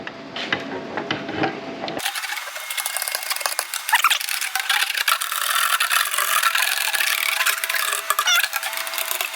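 A sheet metal edge roller tool is worked along the edge of a metal sheet, giving a continuous close rasping, rattling scrape after a brief quieter start.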